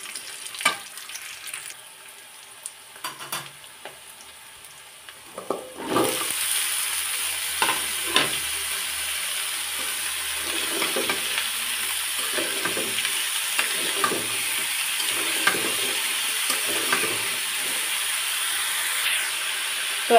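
Sweet pumpkin pieces with green chili hit a hot pan for hotel-style bhaji: a few light clicks first, then a sudden, loud, continuous sizzle and hiss, with stirring scrapes throughout.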